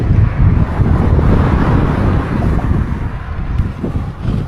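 Strong wind roars across Xinjiang's highway 314, a heavy, constant buffeting rumble battering the microphone with little letup from start to finish.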